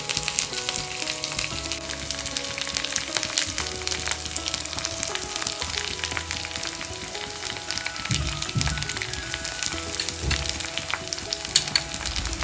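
Crushed green chili and garlic paste sizzles hard in a pan, a dense continuous frying crackle close up, with faint stirring scrapes and no talk.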